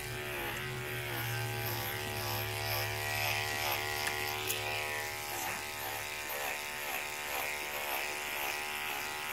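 Electric clippers trim an Airedale terrier's coat, making a faint, steady buzzing drone with slight rhythmic pulsing as the blade moves through the hair, heard alone without talk.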